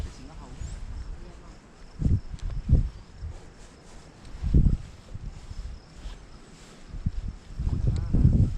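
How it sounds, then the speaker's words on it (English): Grasshoppers chirp in a steady faint buzz outdoors by the water, a constant high background under intermittent close rustling and handling noises. "Hear the grasshoppers neeping away out there."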